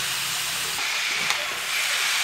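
Vegetables for a Bengali bhaji are added to a pan of fried spice paste and sizzle with a loud, steady, close hiss that continues without pause.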